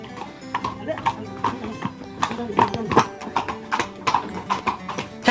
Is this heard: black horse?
yes